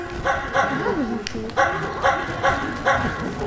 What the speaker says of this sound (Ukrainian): на ранок чують, собаки загавкали